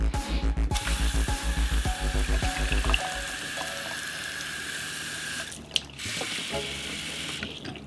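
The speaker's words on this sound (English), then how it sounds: "Let's go turn on some water." Water runs from a faucet in a travel trailer with its water pump switched on. A pulsing, chugging pump rhythm sounds for the first few seconds, then gives way to a steady hissing flow, close and moderately loud.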